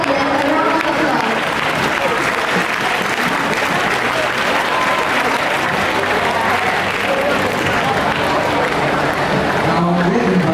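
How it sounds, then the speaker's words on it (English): A large crowd at a student leaders' investiture gives the peer support leaders loud, continuous applause that fills the whole stretch, with faint voices mixed in. "Let's give the peer support leaders a round of applause"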